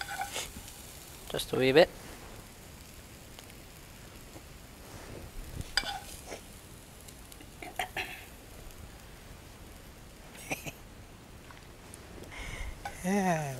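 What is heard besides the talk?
spinach sautéing with onions in a pan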